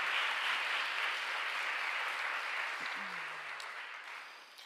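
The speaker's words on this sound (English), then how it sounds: "So please give them a round of applause." Applause from an audience at a scholarship awards event in a church, fairly faint and distant, gradually tapering off toward the end.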